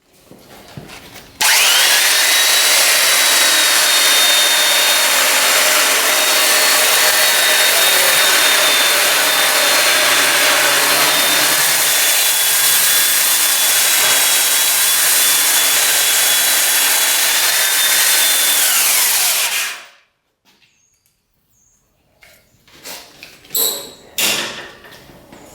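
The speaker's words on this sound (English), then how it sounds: "So all this is a flap disc, sanding paper, obviously belt sander, and we'll get to it, and we'll sand this up" A flap disc grinds continuously across a steel griddle surface being resurfaced, loud and close for about eighteen seconds before cutting off abruptly, followed by a few scattered clanks and handling noises.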